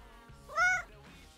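A talkative female house cat lets out one short, clear meow at close range, set against low background music with no voices.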